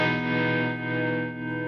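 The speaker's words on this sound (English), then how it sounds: "A little distortion." Electric guitar through a distortion effects pedal, with a tremolo effect also running, holding one sustained, buzzy, harmonically rich chord for almost two seconds before cutting off.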